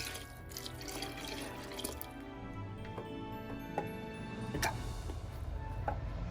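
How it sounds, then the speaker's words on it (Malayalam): Melted butter is poured into cake batter, a soft, faint trickle with a few small ticks and drips close by and no voices. "ഇപ്പം ഈ ബാറ്ററിലേക്ക് ഞാൻ ഉരുക്കി വെച്ചിരിക്കുന്ന ആ ബട്ടർ ഒഴിച്ചു കൊടുക്കാമേ."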